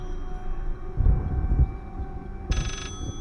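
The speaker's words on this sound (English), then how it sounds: "That sounds like the phone's coming from up there." Telephone ringing in the Layers of Fear horror video game, a brief bright electronic ring bursting in near the end over a dark ambient drone with low thuds.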